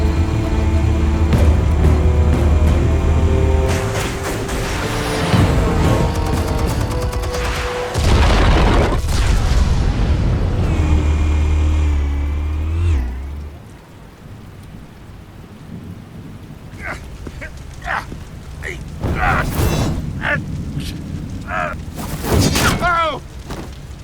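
Explosive detonations in the Batman: The Telltale Series game, heavy low booms and rumbling blasts with crackling debris, loud and continuous through the first half, then quieter scattered bursts, with voices speaking over parts of it.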